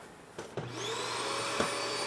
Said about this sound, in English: we've got access to your central vacuum down below the stairs